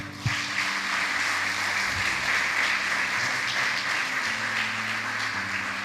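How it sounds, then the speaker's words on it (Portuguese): A church congregation applauds steadily, a dense sustained wash of clapping filling the room for several seconds, with a low sustained tone underneath. "Aplauda o Senhor"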